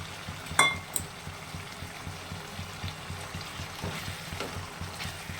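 Shrimp tossed into a frying pan with Malabar spinach (pui) and vegetables, heard as a soft, steady sizzle with a few clinks of utensil against the pan.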